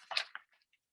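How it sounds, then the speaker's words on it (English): Dumpling filling with pepper being stirred in a bowl, heard as a couple of short wet squishes followed by faint soft smacks, close and quiet, with no voices. "Now that it's all in there, you could just start mixing it up"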